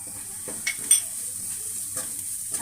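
Spices with chili powder and amchur roasting in a pan for mirchi wada, a soft steady sizzle with a few brief spoon scrapes and taps, close but fairly quiet.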